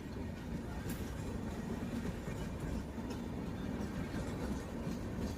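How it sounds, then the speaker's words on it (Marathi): Kanyakumari–Pune Express arrives at a rail line, a low, steady rumble of train wheels and carriages that stays fairly distant and even throughout, without voices. "कन्याकुमारी पुणे एक्सप्रेसचं आगमन"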